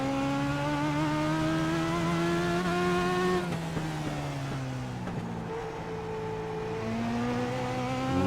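Race car engine in a racing video game at Charlotte, loud and sustained, revving through gear changes with a brief lift for a corner and then pulling back onto the throttle, with no talk.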